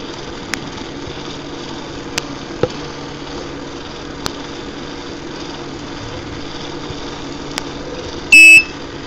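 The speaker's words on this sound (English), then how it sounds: "That is unmistakably the buzzer." A buzzer on an ESP32 keypad project gives one short, loud electronic burst near the end, after a long stretch of quiet background hum with a few faint clicks.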